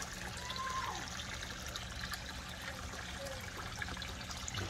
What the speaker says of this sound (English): the water goes through that and goes up through the sand and gravel and charcoal